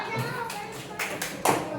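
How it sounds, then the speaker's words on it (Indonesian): Schoolchildren in a classroom clap their hands in a few scattered, uneven bursts, with a teacher's voice and children's chatter mixed around the claps. "Tepuk tangan dulu."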